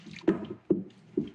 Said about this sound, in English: And literally just stir this to just coat it with everything.